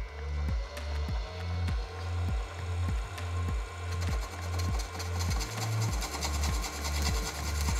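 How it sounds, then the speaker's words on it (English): A 19 mm Forstner bit drilling slowly into carbon, a steady grinding rasp with a pulsing low drone from the drill motor, close and continuous, with no talking. "I've got my 19 mil Forstner bit with the stop plate set just deep enough so the gunsmith adapter will protrude by about 1/16 of an inch"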